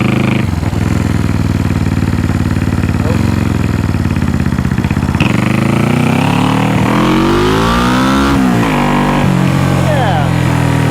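A restored 1974 Honda CB360 motorcycle engine running loud and close, idling then revving with rising and falling pitch sweeps, while people talk nearby.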